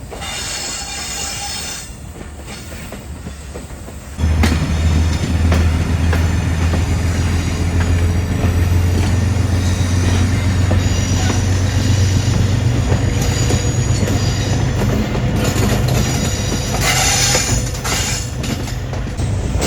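The New Khushal Khan Khattak Express climbs a hill on its Karachi to Sehwan run, quiet rolling at first, then a sudden loud surge of grinding wheels, squeals and rattling carriages that stays steady and close.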